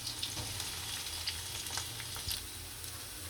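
Chopped onions and green chilies frying in oil for masala Maggi, a continuous close sizzle with occasional stirring clicks and pops, no voices.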